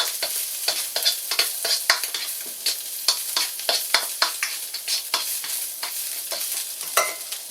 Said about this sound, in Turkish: Bunu kavuruyoruz arkadaşlar.